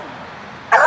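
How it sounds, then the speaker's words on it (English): A dog gives a short, loud burst of barking and yipping near the end, after a stretch of quiet outdoor background at an irrigation setup. "and the dog's upset with me"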